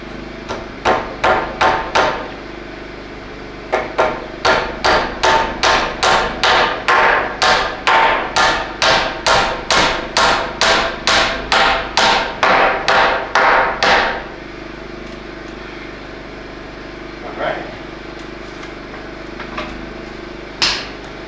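A hammer pounds lumber while a tool shed wall is framed inside a barn: a rapid, steady run of sharp, loud blows for about fourteen seconds, then a couple of isolated strikes amid quiet.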